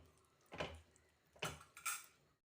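A spoon stirs frozen peas in a pan, making three short scraping clatters of metal against the pan in a quiet room.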